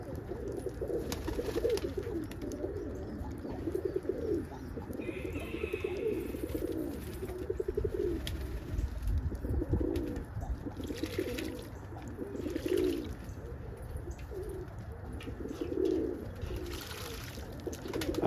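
Fantail pigeons coo softly in a repeated low rhythm, with scattered faint chirps and a steady outdoor background.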